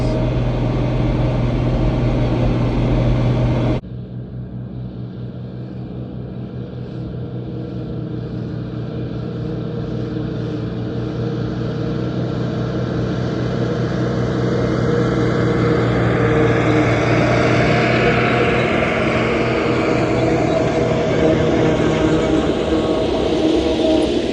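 A forage harvester blows first-crop hay through its spout into a hay box in the field, giving a steady, loud mechanical drone with a rising airy hiss of crop flow and no voices.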